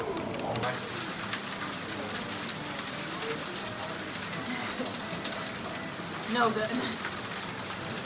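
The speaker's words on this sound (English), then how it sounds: "No, it's hailing, dude." Hail falls on a mountain chair lift, a continuous pattering rattle of ice on surfaces with steady density, while people talk nearby.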